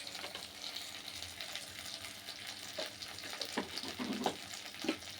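Chicken masala curry fries in a pan with a steady, close sizzle, broken by a few stirring scrapes and clatters toward the end, and no one talking.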